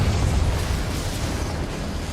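A Confringo fire spell bursts in the Hogwarts Legacy video game, a dense, roaring explosive rumble that stays loud and sustained for about two seconds with no pauses.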